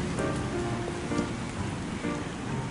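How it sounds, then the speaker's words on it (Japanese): Steady rain on a city street in Miyazaki, a constant close hiss of drops hitting the pavement with faint scattered patters, no voices. "ちょっとね雨が小降りになったため"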